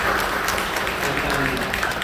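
Applause from a church congregation during a worship service, a dense, steady wash of clapping that fills the whole moment without pause.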